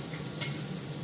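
Ar fish frying in a pan, a brief close crackling sizzle with a soft stir or clink, no voices.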